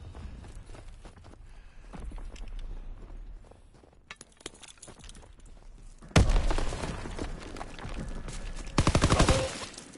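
Gunfire in Call of Duty WW2 sounds as scattered shots and footsteps give way to a loud burst of rapid fire, then a second dense volley near the end, no voices.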